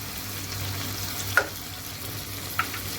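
Chicken karahi fries with black pepper and salt, a steady close sizzle with two distinct clinks of a spoon against the wok, and no one speaking.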